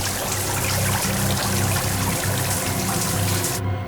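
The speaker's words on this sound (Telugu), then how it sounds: "సార్, సబ్మరీన్లో హోల్ ఏర్పడింది. నీళ్లు వేగంగా లోపలికి వస్తుంది." Water gushes into a damaged submarine through a hole in the hull, a steady loud rushing roar with low churning rumble that continues without pause until it cuts off abruptly near the end.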